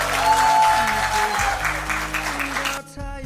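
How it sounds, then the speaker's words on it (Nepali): Wedding guests at a Christian church ceremony break into brisk applause, loud at first and then thinning out before stopping abruptly near the end, leaving a brief hush. "ताली बजाउनु है त्यसो भए"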